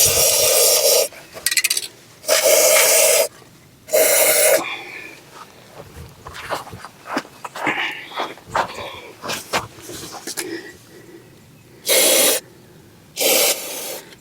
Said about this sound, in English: I like to take some of this dry lubricant, hit the mechanism there down